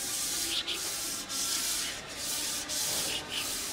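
Express Maxi Wax is rubbed onto a ski in quick back-and-forth strokes, making a close, steady rasping scrub with brief pauses at each change of direction, with no voices.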